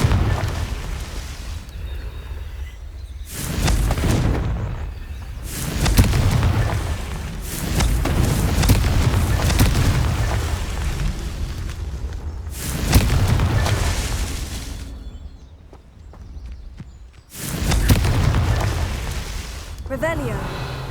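Repeated booming blasts from the Confringo fire spell in the game Hogwarts Legacy, several loud bursts with rumbling tails spaced a few seconds apart, with quieter gaps between them.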